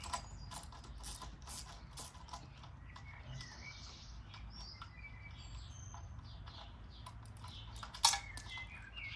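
Hand ratchet working a rear exhaust nut on a Triumph Street Triple 765 RS motorcycle, quiet mechanical clicking spread through the stretch, with one sharper metallic knock near the end, no talk.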